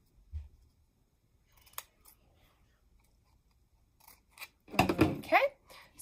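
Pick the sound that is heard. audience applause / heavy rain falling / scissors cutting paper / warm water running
scissors cutting paper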